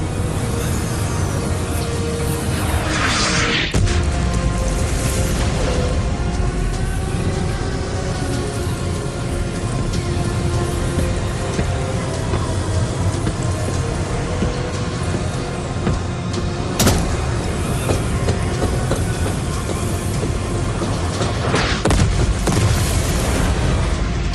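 Artillery shells explode in the MechWarrior 5: Clans video game, heard as a continuous deep rumble with heavier booms rising out of it and a steady hum underneath.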